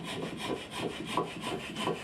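A hand saw cuts off the protruding tops of tapered wooden legs on a firewood sawhorse, with quick, even back-and-forth strokes rasping close and clear, with no talk.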